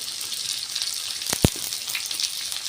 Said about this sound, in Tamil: இது எல்லாத்தையும் சேர்த்து நல்லா எண்ணெயிலே வதக்கி விட்டுடலாம்